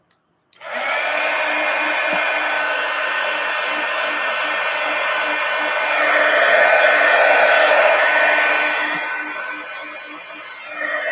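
A hair dryer blows steadily on a mixed media collage pumpkin, a loud constant whine and rush that swells slightly midway, then tapers near the end.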